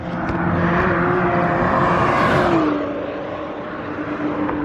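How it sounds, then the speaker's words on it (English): Cars roar past one after another on the Brands Hatch race track during a track day, a loud revving sweep rising and falling as they pass nearby, with steady engine noise continuing afterward. "Here goes a few cars now."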